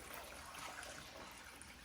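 Water is poured into a pan around a piece of beef to start gravy for Italian beef sandwiches, a soft steady trickle and splash running continuously at low volume with no talk.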